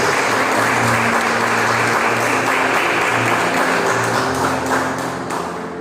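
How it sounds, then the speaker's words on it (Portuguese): Church congregation applauding during a Portuguese-language sermon, a loud sustained roar of clapping with a low hum of voices beneath, fading slightly at the close. "Você pode aplaudir por isso?"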